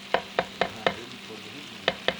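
Onions soften in a small frying pan for pork green chile, a gentle sizzle broken by six sharp spoon scrapes and taps, clustered early and again near the end.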